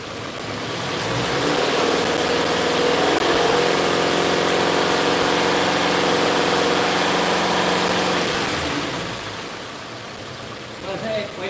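A water pump engine runs steadily and close, its pitch and drone rising as it is revved before easing off near the end, with people talking over it.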